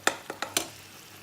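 Spice paste for chicken chaap fries in a pan, with four quick spatula knocks or stirs in a row, then a soft, low sizzle that carries on afterward.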